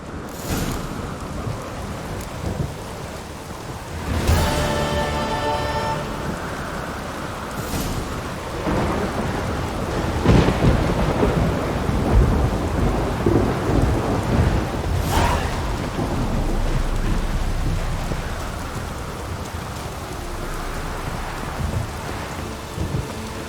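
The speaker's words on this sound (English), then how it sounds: "Raining fucking buckets." Heavy rain pours steadily in The Witcher 3 video game while several loud thunder cracks and rumbles break through at intervals, with no voices.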